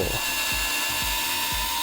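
Cordless electric screwdriver-drill, such as a Bosch GO3 or Vessel ball-grip driver, with a 10 mm wood bit reversing out of a drilled hole in wood: a steady high motor whine with four regular low thumps, close and loud, with no voices.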